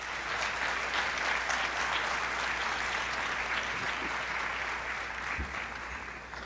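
Seminar audience applause, a dense and continuous round of clapping from a large room that stays steady throughout and eases slightly near the end.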